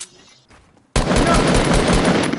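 Video game gunfire, a sudden loud burst of rapid shots that starts abruptly after a quiet lull and keeps going steadily to the end, close and dominant.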